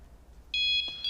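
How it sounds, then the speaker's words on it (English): An electronic alarm guarding palace tapestries gives a sharp, high, steady beep that starts halfway through, holds briefly, then sounds again, close and loud in a quiet room. "That's just the alarm to stop people from touching the tapestries."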